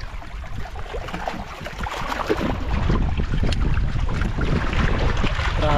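Strong wind roars across the microphone on a small fishing boat at sea, a dense low rumble that builds and stays loud and close throughout, with water churning beneath it and no voices.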